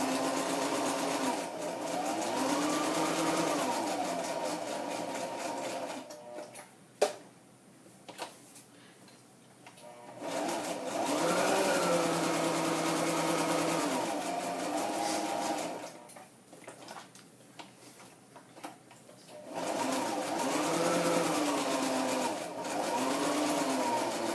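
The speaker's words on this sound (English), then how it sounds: "Or maybe I'll just continue with the zigzag stitch." A sewing machine runs a zigzag stitch in three long, steady bursts of rapid mechanical whirring and ticking, separated by quiet pauses with a few clicks, close and moderately loud.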